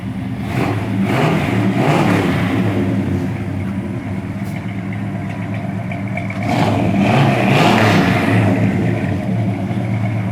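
1964 Ford Galaxie 500 with a 427 V8 revving, a deep loud rumble rising in two surges with a steadier idle between them, no talking.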